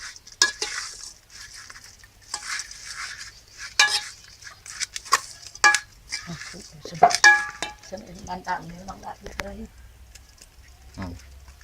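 Curry paste being mixed with live shrimp in a bowl: intermittent clinks, scrapes and wet stirring knocks at close range, scattered and uneven, with someone talking between and over them.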